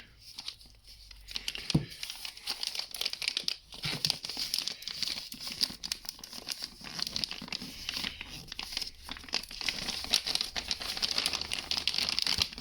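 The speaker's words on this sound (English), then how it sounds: "I like the sound of this plastic, quite strong" Continuous close crinkling and crackling of plastic packaging around a Televue Ethos 21mm telescope eyepiece being handled, uneven bursts throughout with no voices.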